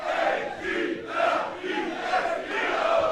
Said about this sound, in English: Can we get it going with it just to warm everybody up with an Eagles cheer and E-A-G-L-E-S?